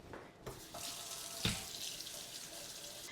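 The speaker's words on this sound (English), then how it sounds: "next I'm finna wash my hands" A kitchen sink tap runs as hands are washed, a steady close rush of water with a brief splash and clatter partway through, no voices.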